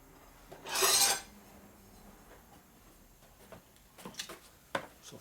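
A file handle knocks and scrapes carbon deposits off a Harley-Davidson Sportster 1200 cylinder head, one loud rasping scrape near the start followed by a few light taps and scratches, close up with no talking.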